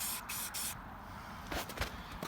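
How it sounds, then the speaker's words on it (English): Rust-Oleum spray paint hisses from an aerosol can in several short bursts with brief gaps between them, close and fairly loud, while working on a Mighty Mongrel III motorsports build, with no speech. "the rest of this Rust-Oleum I'm spraying on here"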